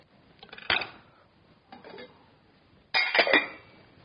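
A regular steel pan and an Amway Queen steel pan, used for cooking apples, clink and clatter close by in three short bursts with quiet gaps between them.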